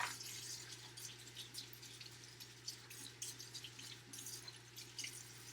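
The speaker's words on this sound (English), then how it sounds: "you're going to take your knife and go over to the sink and clean your knife" Water runs steadily from a faucet into a sink while a knife is washed after making a grilled cheese sandwich, with a soft continuous splash and small drips, fairly quiet and close, with no talking.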